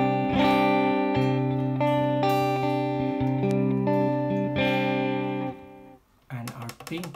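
An electric guitar plays through the analog delay setting on a Digitech RP55 processor: strummed, sustained notes with softly trailing repeats for several seconds, then a pause and a short stretch of someone speaking.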